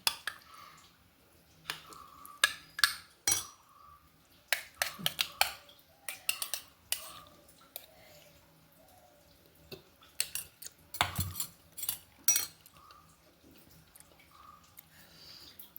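Banana gudanna, a sweet festival dish, is served from a bowl onto a plate with soft scraping, wet squishes and scattered light clinks of a metal spoon against dishware, close and intermittent.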